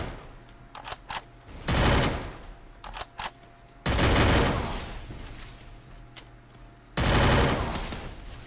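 Rapid bursts of automatic gunfire from a Free Fire 1v1 shooting game: short rattling volleys early on, then three long, loud sustained sprays of rapid shots separated by brief quieter gaps.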